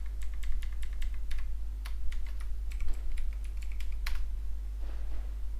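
Rapid typing on a computer keyboard while entering an email ID and password, a steady run of light clicks and key taps, close and clear over a constant low hum.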